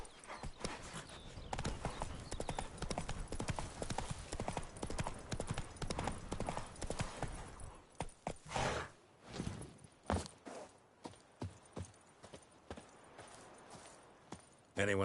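Horse hooves clip-clop in a steady riding rhythm in The Witcher 3, loud and close for the first half, then thinning into sparser footfalls, with occasional speech over them.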